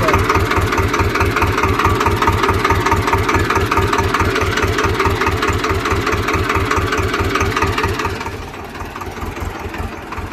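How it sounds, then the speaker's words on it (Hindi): A Swaraj 724 XM tractor, stuck and working in low gear, gives a loud, close, steady thudding engine beat that holds evenly before easing slightly lower and quieter near the end. "सौराज से कोशिश की जा रही है लो गियर में, अब देखते हैं क्या होता है।"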